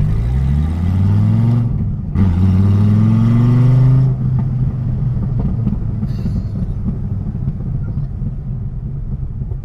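A Dodge Viper GTS Hennessey 700R accelerates hard in a loud, close rumble, climbing through a gear change before easing off into a steady lower drone.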